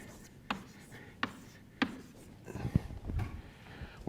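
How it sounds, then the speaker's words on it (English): Marker or chalk strokes on a board in a physics lecture, three sharp taps at roughly even intervals, then a cluster of quieter scratchy writing strokes, close by with no talking. "let me write this down again"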